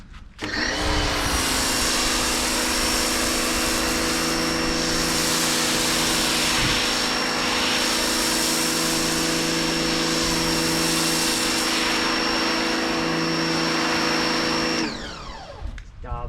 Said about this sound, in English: I'm using a Titan 140 bar pressure washer